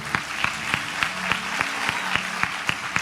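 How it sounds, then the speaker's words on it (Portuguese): A church congregation claps along in a steady rhythmic beat, about three claps per second, with a low sustained musical tone underneath, fairly loud and close. "Você pode aplaudir Jesus pela vida deles?"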